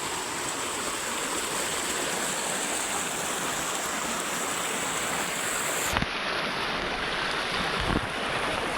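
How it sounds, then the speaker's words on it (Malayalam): Waterfall swollen in the monsoon season, a dense, constant roar of rushing water filling the scene, with a couple of brief bumps near the end. "ഇപ്പോൾ ഇതാണ് നമ്മുടെ വെള്ളച്ചാട്ടം."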